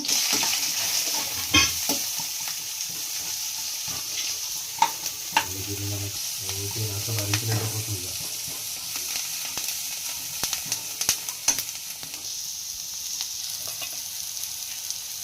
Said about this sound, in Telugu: ఎల్లిపాయలు కప్పు ఉల్లిగడ్డ వేయించుకోవాలి మంచిగా స్లో ఫ్లేమ్లో